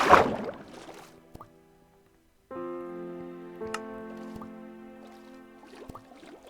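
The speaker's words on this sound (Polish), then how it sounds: "dopiero zauważyłem, że te bąbelki to słychać jak się przebijają" Underwater bubbles popping in Minecraft, soft watery plinks and drips over a faint sustained tonal hum, quiet and scattered across the scene with no voices.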